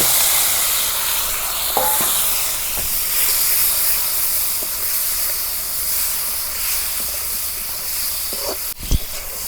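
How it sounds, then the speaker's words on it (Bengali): Taki fish frying with chopped onions in hot oil, a loud, steady hissing sizzle close by, broken by a few faint clinks and a sharp knock near the end. "টাকি মাছগুলো আমি প্রথমে ভাজা ভাজা করলাম"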